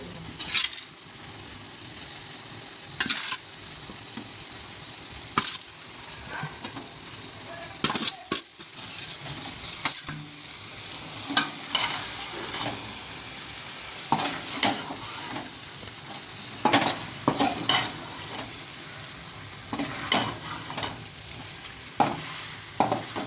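Cut boiled eggs sizzle steadily in a hot pan for an egg roast while a utensil stirs and scrapes in repeated bursts, with occasional light clinks against the metal.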